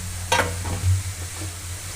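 Grated carrot sizzles and fries in ghee while a spoon stirs and scrapes through it for carrot halwa, with a short scraping burst near the start and a steady soft sizzle underneath, close up and with no talking.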